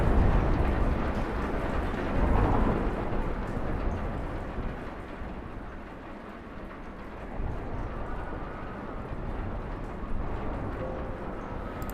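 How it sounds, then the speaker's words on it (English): Steady, heavy video game rain pours continuously with a low rumble of thunder underneath, loud and close throughout. "How loud is that rain?"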